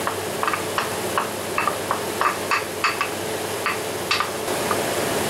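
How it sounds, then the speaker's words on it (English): A spoon stirs salted, peppered onions and vegetables in a pan, producing repeated light clinks and scrapes in an irregular rhythm over a faint steady background hiss. "And stir it in the onions."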